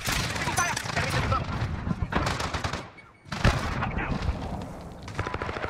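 Dense gunfire from Call of Duty: Modern Warfare (2019) crackles in rapid automatic bursts with heavier booms mixed in, a short lull, then more bursts, with radio-style voices heard under the shooting.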